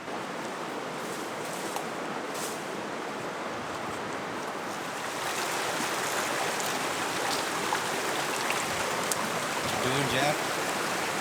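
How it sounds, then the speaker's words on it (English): Steady rushing flow of creek water at a horseback crossing in backcountry hunting country, a continuous broadband wash that swells slightly louder partway through, with no talk. "We're at another creek crossing."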